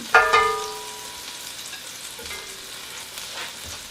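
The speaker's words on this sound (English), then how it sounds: "I'm going to take them out of the pan now." Sautéed celery and onions sizzle in a pot while being scooped out, a soft frying hiss with a bright metallic utensil clink at the start and a few lighter scrapes later, no voices.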